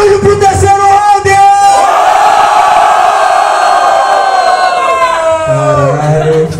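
A crowd at a regional rap battle final yells and whoops loudly, a sustained chorus of many voices rising together and tapering off, with a shout at the start.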